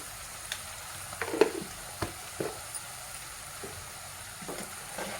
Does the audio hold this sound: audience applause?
no